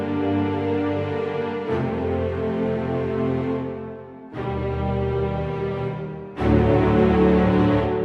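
Sustained orchestral strings from a Vienna Symphonic Library sample section holding rich chords, swelling in sections with abrupt changes between sustained notes, ending with a louder, brighter string entrance.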